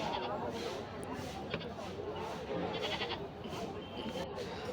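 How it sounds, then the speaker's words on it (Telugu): Goats bleat at a busy rural goat market in Ramapuram, Annamayya district, their calls rising over a steady crowd murmur, with people talking throughout. "మీరు చూస్తున్న దాంట్లో కొన్ని మేకలు ఉన్నాయి, కొన్ని మేకపోతులు కూడా ఉన్నాయి."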